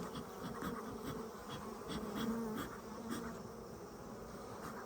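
Dense, continuous buzzing of many honeybees from a newly installed package swarming close by, steady and loud with no voices.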